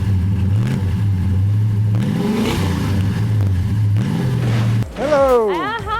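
A big-engined American muscle car at a street rod cruise revs repeatedly, the engine note rising and falling in loud, close bursts, followed by a sharp high rev at the end.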